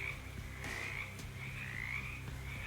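A frog croaks in the game Shadows Over Loathing, a steady low throaty drone with a faint ringing tone above it, continuous and fairly quiet throughout.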